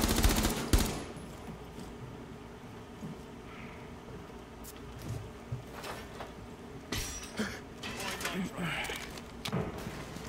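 Gunfire in Rainbow Six: Siege, scattered sharp shots and short bursts, some close and loud, others distant, with voices talking over the game.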